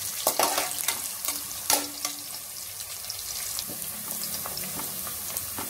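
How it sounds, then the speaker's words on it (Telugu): Chopped onions frying in a pan for a Hyderabadi khichdi, a steady close sizzle with sharp scrapes and clicks as they are stirred now and then. "ఆనియన్స్ బ్రౌనిష్ కలర్ వచ్చే వరకు వేయించుకుందాం"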